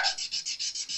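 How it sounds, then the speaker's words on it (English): Soft 600 to 800 grit sanding pad rubbing the frets of a Gretsch Electromatic guitar, making quick rhythmic back-and-forth rasping strokes, about six passes in one second, close and clear. "600 to 800 sanding pad. It's very benign, very soft."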